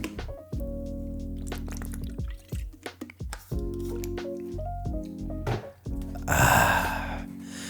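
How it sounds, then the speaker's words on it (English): Someone drinks water, producing wet, liquid swallowing and sipping sounds with soft drips and squishes. A low, tonal hum runs underneath, and a brief burst of pouring or sloshing comes near the end. "I need to drink some water."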